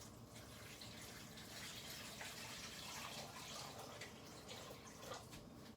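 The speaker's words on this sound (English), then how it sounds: "I am going to put water in my canner per my canner instructions." Water runs steadily into a pressure canner, a faint, continuous splashing pour with no pauses and no talk.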